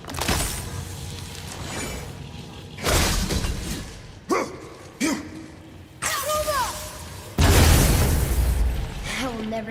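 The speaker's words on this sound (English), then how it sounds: "I will never get tired of shattering things with this." Objects shatter under heavy weapon attacks in the God of War video game, loud crashing bursts and booming impacts coming in several separate waves with brief quieter gaps between.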